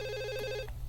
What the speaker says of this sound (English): Wait a minute, phone. Answer the phone!